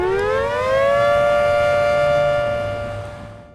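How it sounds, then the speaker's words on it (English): An old civil defense tornado siren installed around 1973 in Hennessy, Oklahoma, gives one loud, sustained wail. It rises in pitch, holds steady, then starts to wind down and fade at the end, heard alone outdoors. "How old is the siren that we're looking at? That was put in about 1973."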